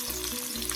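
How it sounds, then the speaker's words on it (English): Onions sizzling in hot oil in a pot, a brief, steady hiss at moderate level with no voices. "I'm going to start applying my onions inside."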